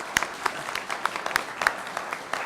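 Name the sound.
audience applause for Kat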